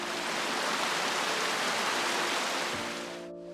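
A waterfall in Pembrokeshire pours into a deep pool, a dense, steady broadband rush of falling water close by that fades slightly at the very end.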